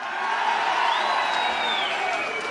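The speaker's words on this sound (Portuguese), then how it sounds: "Saudar o vice-presidente e pedir uma salva de palmas, Geraldo Alckmin." An audience fills a hall at a government ceremony announcing Novo PAC Seleções 2025 with dense, sustained clapping, mixed with cheering and whoops.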